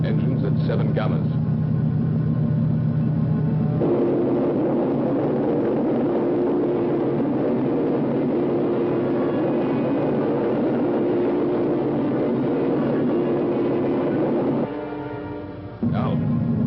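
Spacecraft engines in a science-fiction film about a runaway atomic threat rumble as a deep, continuous drone. A voice speaks over the roar, and the pitch shifts a little near the end.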